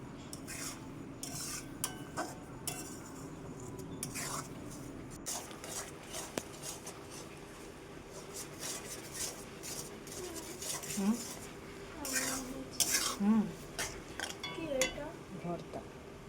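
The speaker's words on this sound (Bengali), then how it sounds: "আমি অনবরত নাড়তে থাকবো, নাহলে নিচে আবার লেগে যেতে পারে।" A spoon scrapes and clinks steadily against a pan as pointed gourd bharta is stirred continuously, with brief louder knocks near the end and quiet talk underneath.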